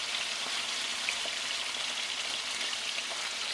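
Fish pieces for Kerala fish molee sizzle in a pan with a soft, even hiss, moderately quiet and continuous, with no voices.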